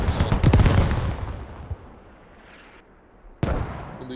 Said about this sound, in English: Mortars just hit something here.